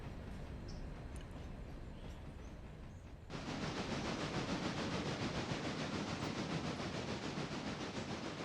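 Train reversing slowly in the Railroader video game: a steady, loud rolling rumble with faint rail clatter and hiss that starts a few seconds in and continues unbroken.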